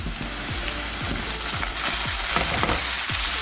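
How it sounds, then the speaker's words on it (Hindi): Tomatoes tipped into golden-fried onions in a pan for aloo shimla mirch (potato capsicum) curry, giving a loud, steady sizzle with several quick scraping stirs throughout. "अब प्याज हमारा गोल्डन हो चुका है। अब मैं इसमें शामिल कर लूँगी टमाटर।"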